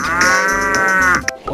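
A toy cow plays a loud, close electronic moo, one sustained bellowing tone that cuts off abruptly after about a second, followed by a brief bit of other noise.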